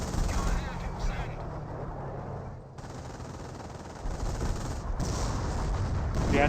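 Infantry gunfire in Company of Heroes, a World War II strategy game: dense, sustained rattling bursts of small-arms fire with a few heavier booms, continuous throughout at a steady mid-distance level, with talk over it.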